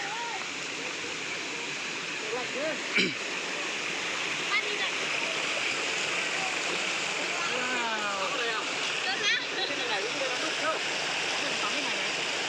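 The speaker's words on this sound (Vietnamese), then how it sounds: "mới ra suối để nghịch nước" A mountain stream rushes and splashes continuously, a broad steady wash of water, with people talking and calling faintly over it.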